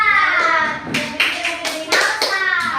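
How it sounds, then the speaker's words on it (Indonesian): Schoolchildren in a classroom clapping their hands in several short, sharp bursts, close and fairly loud, while voices speak between and over the claps. "Tepuk tangan."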